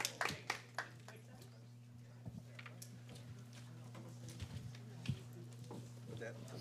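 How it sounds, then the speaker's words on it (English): Scattered hand claps at a city council meeting, a few sharp claps near the start and later, faint against a steady hum, with talking underneath. "you can applaud for that one"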